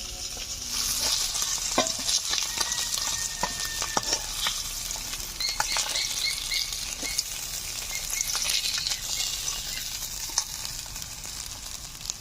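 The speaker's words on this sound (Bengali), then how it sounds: "লালচে করে মাছগুলোকে ভেজে নিয়েছি, এখন তুলে নিচ্ছি।" Fried katla fish lifted out of hot oil in a pan, a steady close sizzle with scattered clicks and scrapes of the utensil throughout.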